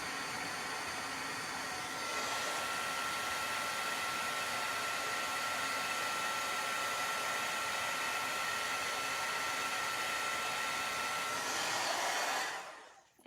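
A heat tool blows steadily and loudly close by, melting fine embossing powder on a stamped Christmas tag, a continuous hot-air roar that holds for about twelve seconds and then cuts off abruptly.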